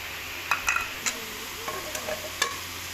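A spoon stirs and mixes chutney seasoned with salt in a pan, sending out a few sharp scrapes and clinks over a faint, low sizzle.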